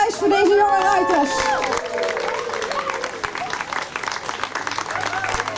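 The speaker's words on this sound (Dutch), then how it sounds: "En een groot applaus voor deze jonge ruiters." Audience applause at a horse event in Sint Anthonis, honoring young riders, loud, dense clapping filling the whole stretch with crowd murmur, while a voice speaks briefly over the start.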